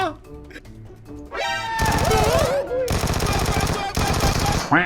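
Weapon fire in the mobile game PUBG Mobile, rapid automatic bursts rattling in several runs amid game sounds and music, with someone talking excitedly at the start.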